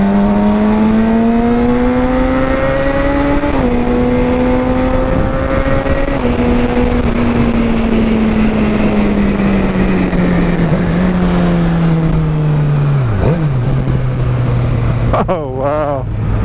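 A Suzuki GSX-R 750 K7 motorcycle engine on a dyno with a quick-shifter, a loud sustained drone that climbs through gears with brief shift dips, then winds down near the end.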